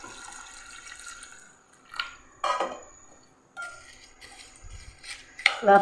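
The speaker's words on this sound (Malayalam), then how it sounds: "നമുക്കിതിലേക്ക് വെള്ളം ഒഴിച്ചു കൊടുക്കാം" Water runs and splashes into a bowl of flattened rice (aval) in short bursts, with quiet gaps between pours and a faint clink of a dish.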